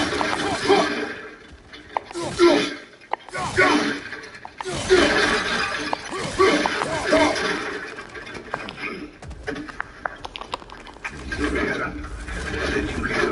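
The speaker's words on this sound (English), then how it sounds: "Back to smashing through things for fun and profit" Objects smashed in God of War Ragnarok give a series of crashing, shattering impacts with breaking debris, loud and irregular over several seconds, with voices talking between hits.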